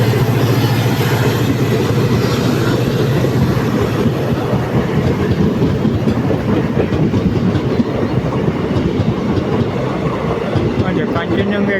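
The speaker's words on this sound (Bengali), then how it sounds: "এটা কাঞ্চনজঙ্ঘা এক্সপ্রেস" The Kanchanjungha Express rolls through Sekerkote railway station in Tripura with a loud, close, continuous rumble and a steady clickety-clack of wheels on rail joints that holds throughout.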